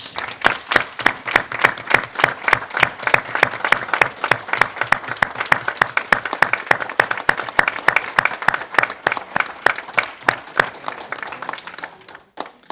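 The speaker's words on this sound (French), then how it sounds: "Je voulais qu'on puisse t'applaudir pour ton travail." Sustained applause from attendees at a municipal council meeting, many hands clapping in a dense, even patter for about twelve seconds before trailing off abruptly at the end.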